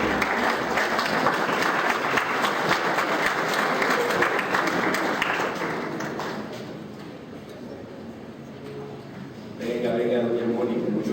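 An audience at a biodiversity lecture on the Qhapaq Ñan applauds a speaker for several seconds, a thick wash of clapping that fades out and gives way to a voice talking.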